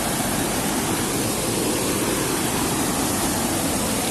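Devghat waterfall at Umarpada roaring as a steady, dense broadband rush of falling water, loud and unbroken, with no voices.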